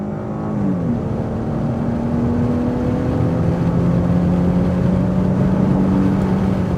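A 2023 Dodge Charger V6 accelerates on the road to catch another car, a steady engine drone with a rising tone as it gains speed, heard from inside with no talk.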